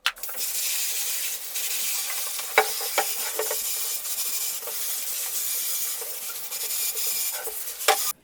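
Running water sprays and splashes steadily over a Commodore 1541 disk drive part as it is rinsed, a continuous loud hiss with a few brief clunks and sharper splashes.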